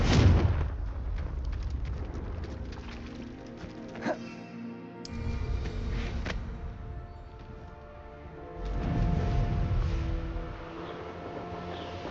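Confringo blasting curse explosions in Hogwarts Legacy, heavy booming blasts with deep rumble at the start and again near the end, surrounded by game effects and low background rumble.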